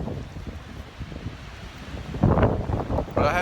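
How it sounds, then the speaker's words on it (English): Wind buffets an outdoor microphone in steady low rumbling gusts, with stronger bursts of blustery noise toward the end; no one speaks. "It's windy out here, hopefully you can hear all this."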